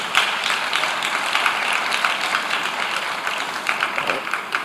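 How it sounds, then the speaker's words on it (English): An audience at an award event claps in a loud, busy patter that keeps a steady pace with small swells, close to the microphone, with a voice murmuring beneath. "So another round of applause for him."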